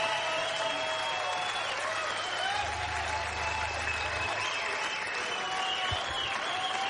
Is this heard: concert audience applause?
yes